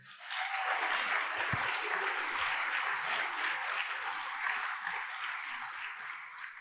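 Church congregation applauding during a sermon, a broad sustained clapping that swells in quickly and holds steady, heard at moderate distance in a reverberant hall with no speech over it.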